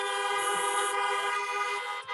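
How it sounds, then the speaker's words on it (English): A shofar blast at a Kabbalat Shabbat service: one sustained, loud, steady horn tone with rich harmonics, held for about two seconds before it breaks off. "Blow your shofar."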